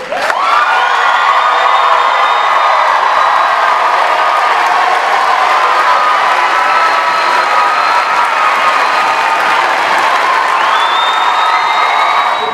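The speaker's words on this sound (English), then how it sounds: "Now let us clap for them all." Graduates at a Columbia College commencement ceremony are applauded by a large audience, with steady, loud clapping and cheering and occasional whoops filling the hall without a break.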